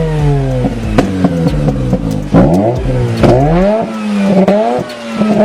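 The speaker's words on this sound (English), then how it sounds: "I think the exhaust note sounds unbelievably good" A Mazda RX-8 rotary engine revs hard in a series of rising and falling sweeps, its raspy, buzzing exhaust note loud and close, punctuated by sharp pops between blips.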